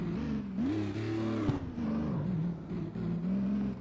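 A car engine in the street racing video game CarX Street, driven with manual shifting, revving up and down in a close, loud whine with quick rises and drops in pitch as gears change.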